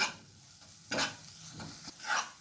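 Masala spice paste fries in oil in a pan while being stirred, with a soft sizzle under a few distinct scraping strokes of the spoon.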